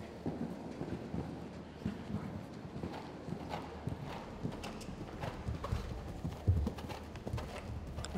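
Rhythmic hoofbeats of a showjumping horse moving at a steady pace around a grand prix course, fairly close, with soft thuds repeating over a quiet background.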